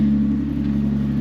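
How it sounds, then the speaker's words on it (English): A car engine with an exhaust leak idles steadily, a loud, close, low rumbling drone with a constant throb and no pauses. "I mean, there's an exhaust leak, you can hear it."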